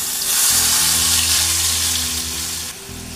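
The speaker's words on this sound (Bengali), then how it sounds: "জিরে ফোড়ন দিয়ে দিলাম, তেজপাতা" Cumin seeds and a bay leaf hit hot oil for a paneer curry, bursting into a loud, steady hiss and crackle that holds for a few seconds, then eases slightly near the end.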